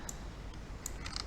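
A few computer keyboard keys pressed for a copy shortcut during seismic data digitizing work, sounding as sparse, quiet clicks spread over about a second against a low background hum.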